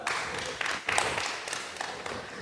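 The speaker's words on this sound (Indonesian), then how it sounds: "Kita berikan tepuk tangan dulu untuk kelompok" A group of students receives a short round of applause in a classroom, with uneven claps of moderate loudness running throughout.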